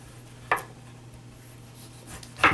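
A kitchen knife slices through food on a board. Two distinct cuts land about two seconds apart, close and fairly quiet, over faint background hum.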